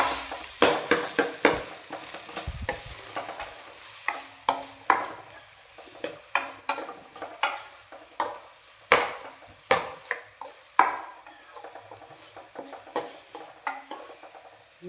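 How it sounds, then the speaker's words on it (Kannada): Tomatoes and spices fry in a pan for a mackerel dish, a steady sizzle broken by repeated sharp clinks and scrapes of a spoon stirring against the pan, close and regular, with no talking. "ಈಗ ಎಲ್ಲ ಸ್ವಲ್ಪ ಫ್ರೈ ಆಗಲಿ"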